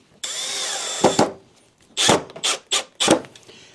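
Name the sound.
power drill screwing down a wooden shim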